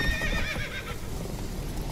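Roach, Geralt's horse in The Witcher 3, lets out a loud, close whinny that fades into rhythmic hoof clip-clops on the ground.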